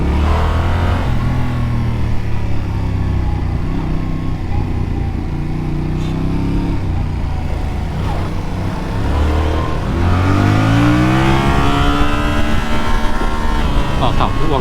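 A Yamaha MT-07 motorcycle with a twin-cylinder engine, from a 2021 test ride, revving loudly and continuously up close with rising and falling pitch as it accelerates, with faint talk beneath.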